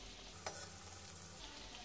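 Chhana koftas sizzle steadily in hot oil, a soft continuous frying hiss with a brief clatter as they are turned, fairly quiet and without any voices.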